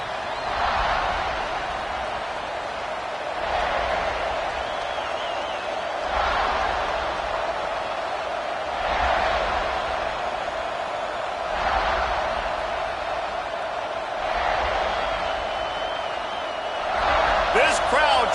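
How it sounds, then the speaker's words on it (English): Stadium crowd in the NCAA 26 college football game, a loud sustained roar that swells in repeated waves beneath a commentator's voice. "This crowd trying to show them what it's going to be like all day in this house"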